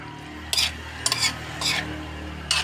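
A spatula scrapes a pan four times while garlic and onion sauté in oil left over from frying crispy milkfish, with a steady low sizzle beneath the close, sharp strokes.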